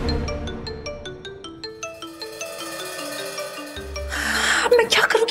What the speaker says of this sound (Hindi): अब मैं क्या करूं कि मणि का फोन आ रहा है